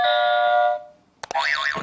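Quiz-show buzzers tested one after another: a sustained bright electronic tone holds for under a second and stops, then after a short pause two sharp clicks lead into a warbling, wavering electronic sound, all loud and close.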